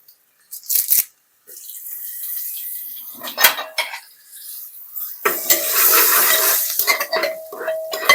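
Garlic is stirred in a cooking pot for Girnari khichdi: close, intermittent scraping and metallic clinks of a utensil against the pot, with bursts of sizzling between the strokes.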